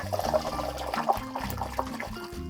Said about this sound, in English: And just pour the whole bottle inside.